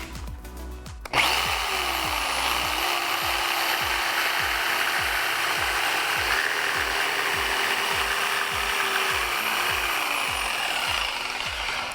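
A jigsaw blade cuts a straight line through wood, the shoe sliding along a guiding thumb. The saw starts abruptly and then runs loud and close in a steady, rapid buzz for about eleven seconds, with no talking.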